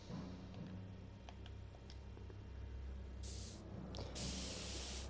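Two short bursts of spray paint hissing from a can in the Back to the Future adventure game, the second longer, breaking through a low background hum.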